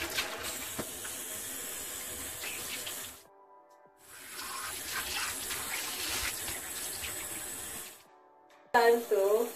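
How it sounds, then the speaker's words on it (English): Water runs steadily from a tap while a face mask of banana and honey is rinsed off, stopping briefly twice and then resuming, with a short burst of other sound at the end. "So guys, it's time to rinse off with water."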